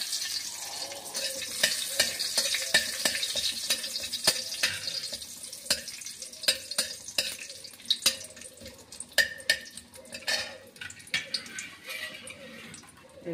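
Bay leaves and cardamom sizzle in a hot pan with oil, a steady bright hiss broken by frequent clinks and scrapes of a spoon stirring against the metal.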